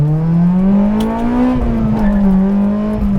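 A Honda Integra Type R DC5 with a Skunk2 3-inch exhaust and PLM header screams at wide open throttle, its loud, steady engine note rising in pitch, then briefly dipping before climbing again.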